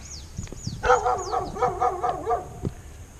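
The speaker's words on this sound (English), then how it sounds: "And now the dogs found me." Dogs barking repeatedly nearby on an uphill street in Cusco, Peru, in a quick, overlapping run of yaps and barks, with a few high bird chirps above.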